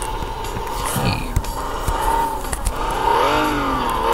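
A small car's engine revs in the physics crash game Turbo Dismount, a buzzing whine that rises and falls in pitch, with a few light knocks and thumps along the way.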